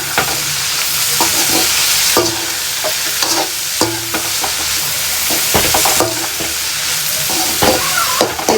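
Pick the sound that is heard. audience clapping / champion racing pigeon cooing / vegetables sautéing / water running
vegetables sautéing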